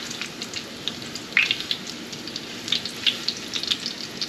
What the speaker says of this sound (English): you're gonna let those fry up until they're like a golden brown on both sides